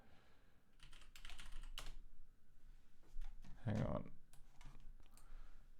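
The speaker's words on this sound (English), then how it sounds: "I'm poorly typing it" Rapid, uneven clacking of fingers typing on a 101-key computer keyboard, close and fairly steady throughout, with a short spoken remark over it midway.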